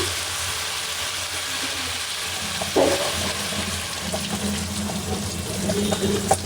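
Water is poured into a hot pan of fish curry and hisses into a steady, loud sizzle with bubbling, continuing close up to the end without talk.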